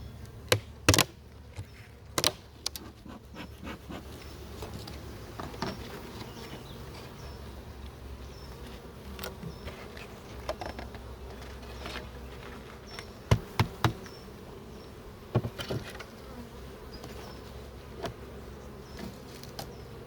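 Honeybees from a swarm buzz steadily over hive frames, a close, continuous insect hum broken by sporadic sharp knocks and clicks of handling, with no talking.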